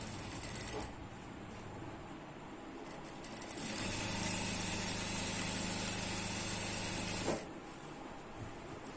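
A sewing machine stitches ankle-length pant fabric in one steady run of about four seconds, a low even motor hum that starts and stops cleanly, with quieter handling before and after.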